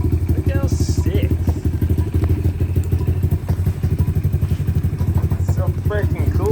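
A motorcycle engine runs steadily close by after a carburetor cleaning, with a rapid, even thumping putter and some mechanical clatter throughout.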